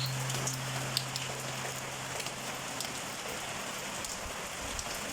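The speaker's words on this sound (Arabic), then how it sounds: "مع الخير ديال الشتاء امطار الخير" Steady rain falls in the winter, a dense even patter with a few sharper drops, heard nearby with no voices and a faint low hum at the start.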